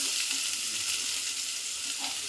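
Chopped onions, three small ones, sizzle steadily in hot oil in a home kitchen, a continuous close, loud frying hiss with faint stirring.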